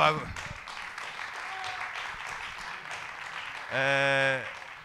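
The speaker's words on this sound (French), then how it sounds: "on pouvait l'applaudir" Scattered applause rises from a small audience at a debate evening in a theatre. It is a moderate, continuous patter of clapping, with a voice speaking at the start and a sustained musical tone near the end.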